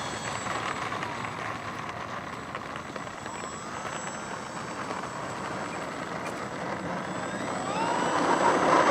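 An EC-1500 radio-controlled airplane takes off, a steady electric motor whine and airflow hiss that rises in pitch and swells louder near the end, with no one talking.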